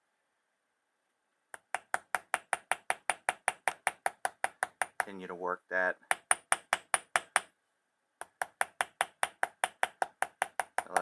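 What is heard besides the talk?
jeweler's hammer tapping buffalo hide leather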